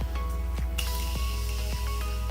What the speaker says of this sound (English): I'm going to mist myself with a little bit of setting spray